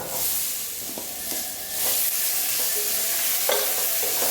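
Chopped tomato cubes added to onions sautéing in a hot pan for a Kerala chicken roast, loud steady sizzling and hissing with occasional stirring scrapes, close up and without speech.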